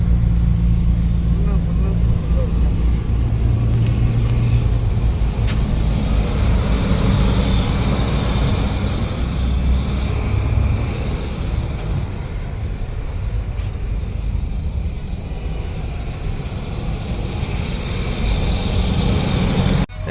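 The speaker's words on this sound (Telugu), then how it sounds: "ఇది ఓల్వో B9R మాన్యువల్ గేర్ ఉంటుంది" Volvo B9R bus with a manual gearbox drives along on an intercity trip, a steady low engine drone and road rumble from inside the cabin, continuous throughout with a slight dip midway.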